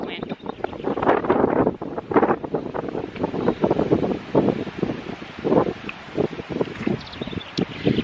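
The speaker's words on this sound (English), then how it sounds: "I am being absolutely pummeled by the wind." Strong wind in a garden roars and gusts continuously against the microphone, buffeting in loud uneven surges for the whole stretch, with faint rustling underneath.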